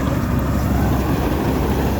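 A loud, steady engine drone with a deep rumbling low end runs unbroken throughout: a combine harvester working close by in a wet paddy field.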